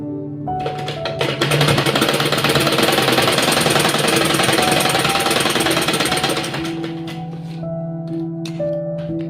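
A sewing machine runs fast, stitching a fabric strip for a baby girl's dress. A loud, rapid mechanical rattle holds steady for about five seconds, then stops, and softer handling noises follow.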